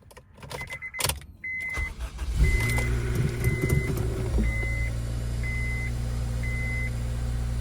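A JDM Type S project car with 103,000 miles is cranked and fires up after a few electronic chime beeps, then settles into a steady, close-up idle.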